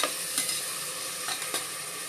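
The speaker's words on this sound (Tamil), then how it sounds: "கடுகு, பூண்டு, கருவேப்பிலை இன்னும் நல்லா பொரிஞ்சதுக்கப்புறம் மொச்சக்காய் உரிச்சு வச்சதையும் உருளைக்கிழங்கு போடணும்." Flat beans and potatoes dropped into hot oil with mustard seeds, garlic and curry leaves, giving a continuous close sizzle with a few sharper crackles and stirring scrapes, no voices.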